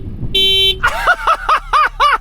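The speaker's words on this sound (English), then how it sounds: "Okay, let's have the Honda, but it's got a crap horn." A Honda Civic Type R horn sounds as a short, thin, high-pitched toot, followed by a rapid run of six rhythmic warbling tones that repeat at an even pace, loud and close.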